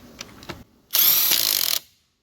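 Brief clanks and taps, then a loud, close Neiko 1/2-inch impact wrench burst lasting just under a second on Silverado lug nuts, whirring sharply before cutting off into silence.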